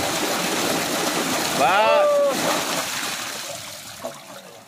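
Water gushes from a farm tubewell into a tank in a field, a steady broadband rush that holds throughout, with a voice rising briefly over it partway through.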